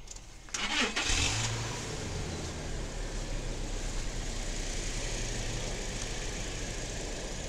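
A Toyota car engine with battery trouble cranks briefly and catches, then settles into a steady, fairly loud idle that runs on alone without any talk.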